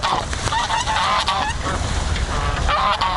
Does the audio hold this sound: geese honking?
yes